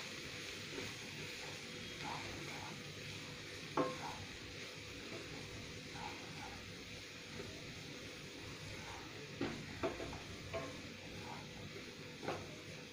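Cauliflower florets and peas being stirred with spices, including kitchen king masala, in a pan: a quiet, steady sizzle with occasional soft scrapes and clinks of the spoon against the pan.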